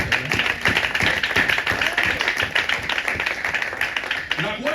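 A church congregation at a Sunday service claps steadily together in a dense, continuous rhythm that fills the room, with voices carrying underneath.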